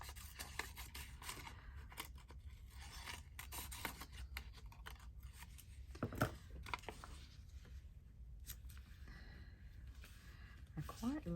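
Scissors snip spindly bits off a papercraft document holder, a series of close, crisp cuts and rustles over a low steady background hum.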